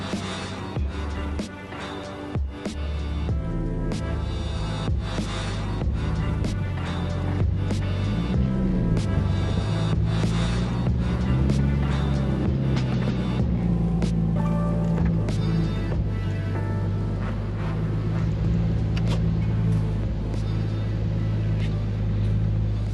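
A Toyota Supra engine on a street gives a close, steady rumble whose pitch rises and falls as it is driven, continuing for the whole stretch with faint voices in the background.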